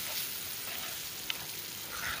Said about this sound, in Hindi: किशमिश मैंने शामिल कर दी है, अब इसकी थोड़ी सी बुनाई होगी साथ